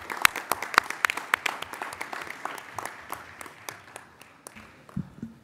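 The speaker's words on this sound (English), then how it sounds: "Can we just get another round of applause for our fantastic student athletes?" An audience at a school board meeting applauds student athletes, with a handful of sharp, distinct claps standing out over lighter clapping that thins and tapers off near the end.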